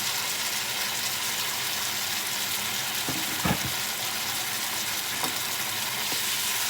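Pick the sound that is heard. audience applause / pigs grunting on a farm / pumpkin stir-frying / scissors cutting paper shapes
pumpkin stir-frying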